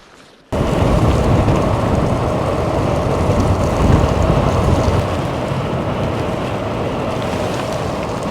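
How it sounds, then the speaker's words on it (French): Morning rain falls in a dense, loud, continuous roar that starts abruptly after a brief quiet moment and holds steady, close and enveloping. "ce matin il pleut. Pas froid mais il pleut"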